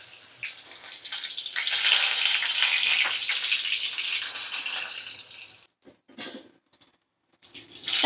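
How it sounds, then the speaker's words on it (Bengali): Eggplant slices fry in a pan with a loud, hissing sizzle that swells early, holds, then thins out into short bursts and brief quiet gaps. "তো ভাজা হচ্ছে বেগুন।"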